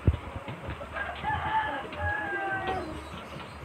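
A young stag gamecock crowing at a distance, a drawn-out call over faint farmyard background noise and a few soft clucks.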